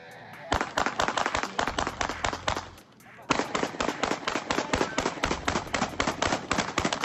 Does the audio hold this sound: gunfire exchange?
yes